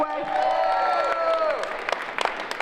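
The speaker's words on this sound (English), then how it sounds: "come on, cheer anyway." A crowd at a Cleveland startup accelerator competition applauds and cheers steadily, with a continuous wash of clapping and an excited voice rising over the top.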